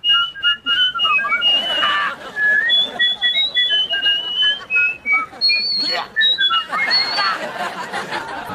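Human whistling of a meandering melody, several clear pitched phrases that glide up and down, mixed with light chuckling and background chatter.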